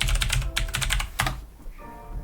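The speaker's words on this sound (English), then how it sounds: "I got the loudest mechanical keyboard I could find." Rapid typing clatters on a loud mechanical computer keyboard, close and crisp bursts of keystrokes in quick clusters, then a brief pause before lighter tapping resumes.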